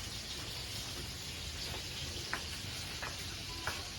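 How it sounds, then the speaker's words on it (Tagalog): Fish frying in a pan outdoors makes a steady, dense sizzle throughout, with a few small pops and spatters breaking through near the end. "Habang nagpiprito ng isda."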